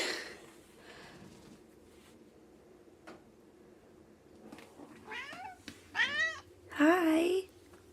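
A pet cat named Rebel meows several times in a living room, rising plaintive calls toward the end, fairly close, with quiet household background and a person speaking softly.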